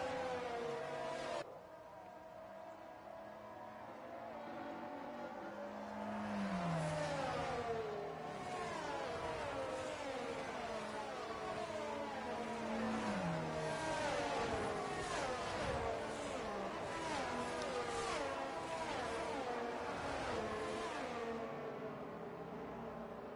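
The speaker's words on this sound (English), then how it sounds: "there are the cars there, just going through turns 9 and 10" Race cars in a sim racing game run through a pair of corners at an Australian circuit, their engines rising and falling in pitch with repeated downshift-and-accelerate sweeps, fairly steady and moderately loud throughout.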